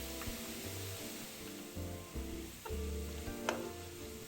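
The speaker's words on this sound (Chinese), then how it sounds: "接着將蟹柳條分批下鍋，一次量不要多，不然油炸後會硬不酥脆。" Batches of crab sticks deep-fry in herb-infused oil over low to medium heat, giving a steady, close, bubbling sizzle that runs throughout, with a brief metallic clink near the end and no talking.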